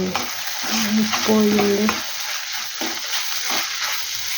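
Okra and tomato fry in a pan with a steady close sizzle, broken by a few scraping stirs of a utensil near the start and scattered clicks, with no voices.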